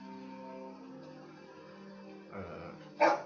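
A dog in The Walking Dead Season 2 video game gives a faint whimper and then a short, sharper bark near the end, under a low sustained musical drone.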